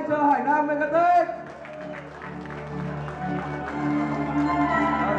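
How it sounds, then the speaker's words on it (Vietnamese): An audience applauds at an award ceremony where a silver cup is presented to a football team, with steady clapping rising beneath an announcer's voice and music. "Một lần nữa một tràng pháo tay cho Hải Nam Megatech."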